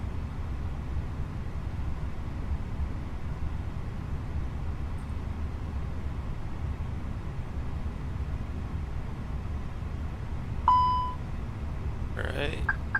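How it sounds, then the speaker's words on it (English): Short electronic alert beeps go off near the end of a steady hum of engine or cockpit noise in a flight simulator game, a smoke detector warning in a Sao Paulo flight. "getting that smoke detector alert"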